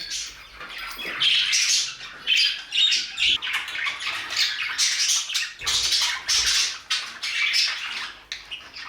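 Budgerigars in a bird room keep up a busy, overlapping chorus of sharp squawks and chatter, close and lively, with brief pauses between bursts.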